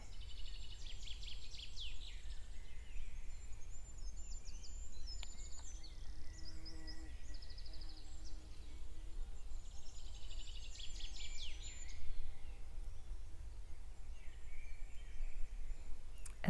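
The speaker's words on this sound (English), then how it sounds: "listening to the birds" Birds singing in a quiet natural setting: faint, scattered high chirps and trills repeat over a soft background hiss, with no voices.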